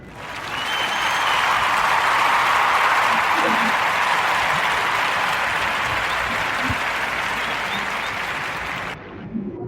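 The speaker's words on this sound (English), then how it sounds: "join me in a warm narrative podcast round of applause for our sister Karen Sellers and Here's the Scoop." A warm round of applause for a podcast guest fills nearly ten seconds, a steady dense wash of clapping that holds loud throughout and drops off abruptly near the end.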